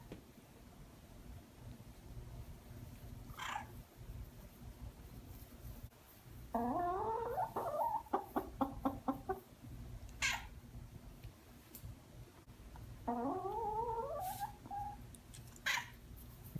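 A cat making odd, clucking chicken-like calls: a few short rising-and-falling warbled bursts with quick stuttering pulses, fairly close and alone against quiet room noise.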